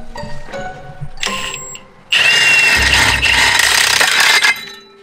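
An impact wrench with an impact socket rattles off the clutch of a Maverick X3, with short tool sounds and clanks first, then one loud, sustained burst of hammering that abruptly stops.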